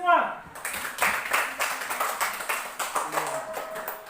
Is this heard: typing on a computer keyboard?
no